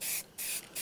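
Spray paint can laying primer onto bare metal in three quick bursts, with short pauses between them: a close, steady, airy hiss.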